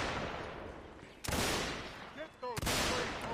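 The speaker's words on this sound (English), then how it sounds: "Firing off their guns to make sure." Musket volleys in the Mount & Blade North & South mod during a Union Army line battle, with two loud, sharp crackling blasts separated by scattered background noise and brief tonal calls.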